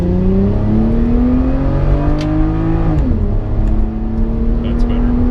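A naturally aspirated JDM Mk4 Toyota Supra engine climbs in revs with a rising drone, drops sharply at the shift into second gear, then pulls again, loud and close from inside the car.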